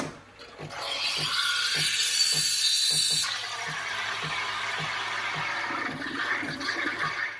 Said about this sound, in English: we'll click start, and it says it's going to rinse it